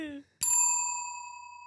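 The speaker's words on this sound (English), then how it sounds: "That's the bell." A single bell is struck once and rings out with a long, clear, slowly fading tone, preceded by a brief moment of talk.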